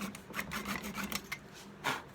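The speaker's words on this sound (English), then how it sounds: "got out a flush trim saw, nice and level, just really easy. Go through this poplar dowel without digging into the other piece of wood" A flush trim saw cuts close up through a poplar dowel on a wooden beer caddy, giving quick, rasping back-and-forth strokes at a moderate, even volume.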